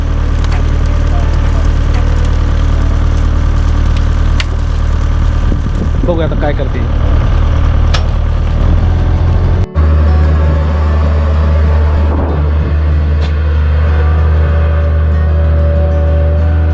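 A car engine runs steadily with a low rumbling hum as it is pulled out by a hook in traffic, people talking nearby, and a brief thump lands midway.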